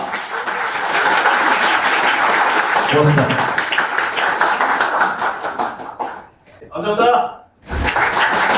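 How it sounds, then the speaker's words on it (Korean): An audience at a Korean law firm's branch office opening seminar applauds steadily for several seconds, the clapping dipping briefly before a short spoken thanks cuts through and the applause resumes. "아버지 어머님께 박수 한번 해주세요."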